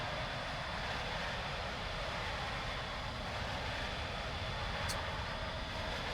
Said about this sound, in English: We should probably stop using the afterburner then